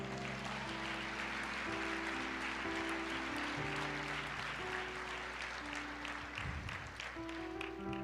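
A church congregation applauds the Lord at a worship service, a dense, steady wash of clapping over sustained organ or keyboard chords, with music continuing underneath throughout.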